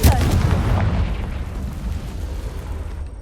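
A Confringo fire spell explodes in Hogwarts Legacy, a loud, close blast at the start with a deep booming body that rolls off into a long, fading rumble.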